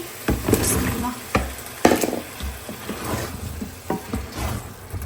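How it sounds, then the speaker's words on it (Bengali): Broccoli masala sautéing in a pan, with a spoon scraping and stirring the spices in sharp repeated knocks over a soft steady sizzle, close and fairly loud, with brief talk under it. "ব্রোকলির মশলাটা কষা আসছে"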